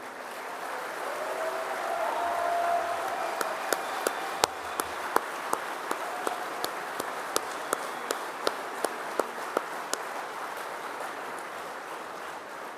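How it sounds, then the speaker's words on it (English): Audience applause at a military award ceremony, a soft broad wash of clapping that swells early, then continues with sharper individual claps standing out, moderately distant and steady throughout. "let's give our competitors and our cadre another round of applause for a job well done"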